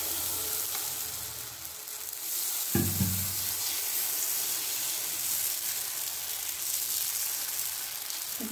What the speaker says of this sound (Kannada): ಹೆಂಚು ಕಾದಿದೆ, ಚೆನ್ನಾಗಿ ಕಾಯಿಸ್ಕೊಳ್ಬೇಕು ಹೆಂಚಿನ. ಇವಾಗ ಹಾಕ್ಕೊಳ್ತೀನಿ.